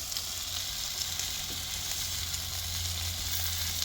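Lamb forequarter chops sizzling on a gas barbecue grill with the burners turned off, a steady hiss and crackle of fat that holds at even loudness throughout, with no talk.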